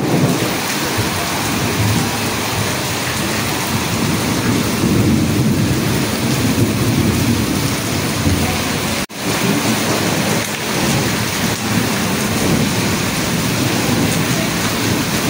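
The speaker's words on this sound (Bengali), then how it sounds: "আর বৃষ্টি দেখো তুমুল।" Heavy rain pours at night, a loud, continuous roar of rain on surfaces with thunder rolling beneath, sustained for a long stretch with only a brief dip in the middle.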